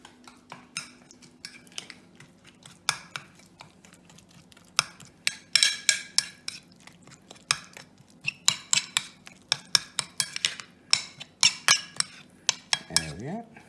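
Stuffing for baked stuffed vegetables is mixed in bowls, with quick repeated clinks and scrapes of utensils against dishes in an irregular rhythm, close and fairly quiet, ending with a short thud.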